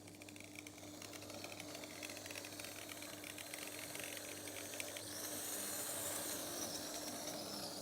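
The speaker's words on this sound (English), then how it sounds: "It's got a bit of a strange whirring noise to it." An HO scale Playart JNR485 model train runs on a test track, its small motor giving a faint, steady whir that grows slightly louder toward the end.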